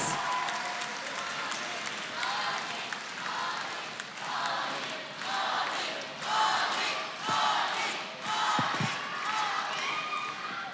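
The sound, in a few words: crowd applause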